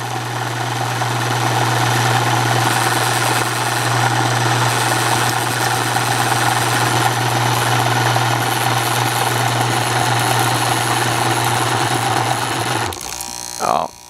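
An open source AC magnet motor runs under a spark gap test with a steady, loud mechanical hum and buzz that carries evenly for about thirteen seconds, then cuts out abruptly and falls quiet.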